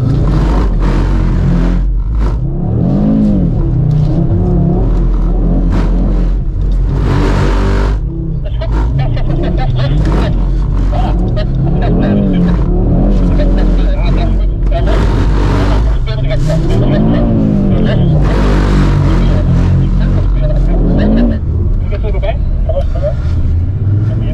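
A 2022 Audi RS3 Sportback with a 400 hp engine revs hard and rises and falls while drifting, loud and close over a long run, with tyre and wind noise around it.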